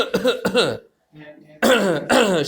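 A voice imitates throat clearing, a short gruff rasp between two bursts of nearby speech, with a brief silence before it.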